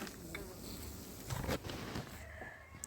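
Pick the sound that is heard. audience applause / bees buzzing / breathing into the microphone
bees buzzing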